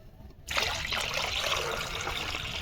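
Water is poured from a container onto mustard cake and DAP fertilizer to thin it, starting abruptly after a brief pause and then running as a steady, close splashing trickle.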